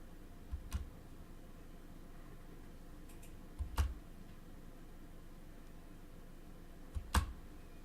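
Three sharp, isolated keyboard presses, the space bar being struck while editing a map on a computer, spaced a few seconds apart over quiet background hiss.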